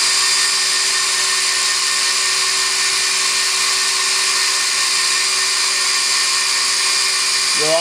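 Live tools spinning at 4000 RPM on a Yama Seiki SW 32 CNC Swiss lathe with a 5-position live cross drill, running without collets or tools: a steady, loud high-pitched whine and hum that holds evenly throughout.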